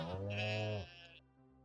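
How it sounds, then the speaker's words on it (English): A sheep in the Stardew Valley farming game gives one drawn-out, wavering bleat, clear and close, ending abruptly before a quiet tail of game background. "There's a sheep."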